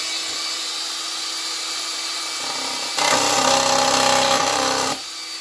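A Makita DJN161 cordless nibbler cuts aluminium sheet: a low motor hum, then a loud, close, chattering cutting burst of about two seconds, dropping back to quieter running.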